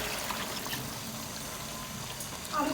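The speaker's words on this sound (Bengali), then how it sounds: "কষানো হয়েছে, এখন আমি পানি দিয়ে দিয়েছি," Water is poured into a pot of goose meat cooking for a rainy-morning meal with khichuri, giving a soft continuous gurgling trickle and a brief brighter splash at the end.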